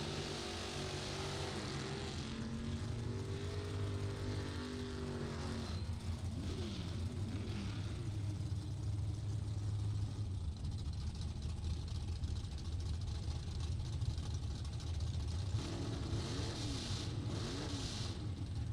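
Drag racing motorcycles and snowmobile sleds idle in the lanes at Luskville Dragway, a steady low engine drone with wavering revving tones rising and falling, continuous and fairly close.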